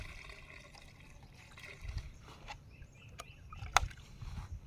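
A liquid solution is poured over something, giving soft, uneven splashing and trickling with a few sharper splats near the end, faint and fairly close, with no talk.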